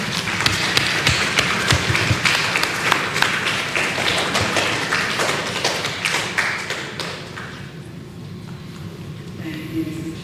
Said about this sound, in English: applause for Ms. Claxton.